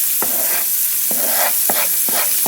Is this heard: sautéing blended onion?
yes